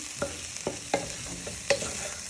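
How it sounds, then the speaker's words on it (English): A spoon stirs spicy meatball sauce seasoned with chili powder in a frying pan, giving a few soft scrapes and knocks over a steady low sizzle. "pinch of chili powder. And you want to give that a good stir in."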